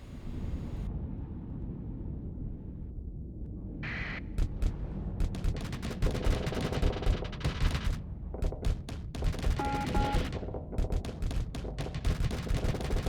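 Ship weapons fire in a Starsector space battle: clusters of sharp, rapid cracks and bursts over a constant low rumble, growing denser partway through with repeated staccato volleys.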